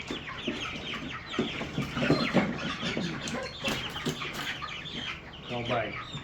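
A broiler chicken clucks repeatedly from inside a box on a homestead, with irregular bursts of agitated clucks and some shuffling, close by, while a person speaks over it.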